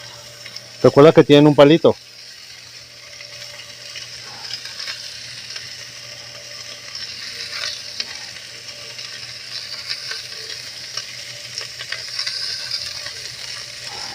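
Bacon-wrapped shrimp fry in a cast iron pan, a soft continuous sizzle under brief speech near the start, with a short clattering burst early on and occasional small crackles.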